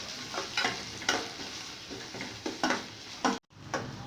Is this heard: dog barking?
no